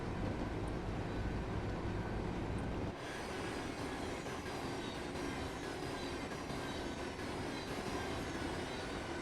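A Thameslink Class 700 electric multiple unit runs in the Train Sim World 3 game, giving a steady rolling rail drone with a shift in tone partway through, loud and continuous without talk.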